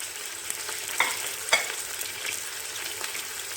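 Calf's feet and garlic sautéing in a pot, with a soft continuous sizzle and a few sharp stirring clinks and scrapes, no voices.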